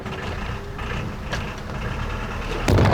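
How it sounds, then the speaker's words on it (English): A 50-year-old sailboat engine turns over and runs, a low rumbling chug under a steady mechanical drone, growing louder and rougher in the final moments as it catches. "now we're going to turn the engine on"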